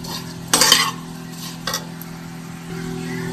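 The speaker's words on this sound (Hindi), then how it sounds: "तो इस तरह से देखिए हम हल्का सा इसे फ्राई करके निकाल लेंगे।" Dry fruits and nuts being lightly fried in a pan for laddu, with a couple of short, sharp bursts of stirring and scraping over a low, steady sizzle.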